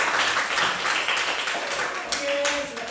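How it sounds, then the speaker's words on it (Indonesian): Students in a classroom clap for a group, a brisk, dense burst of many hands lasting a few seconds and tapering near the end, with voices mixed in. "maka kita berikan tepuk tangan untuk kelompok 2"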